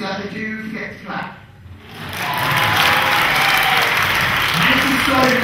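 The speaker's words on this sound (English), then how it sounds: "the first time people see that, they do get to clap." Talk from the stage gives way to loud, sustained applause after a comedy magic trick in which an object passes through a mic stand. The clapping swells up and holds strong to the end.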